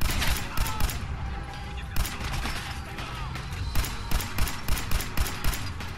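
Fallout 4 combat gunfire against raiders: repeated sharp shots in irregular bursts, loud and close, with a chaotic battle din between them and no clear talk.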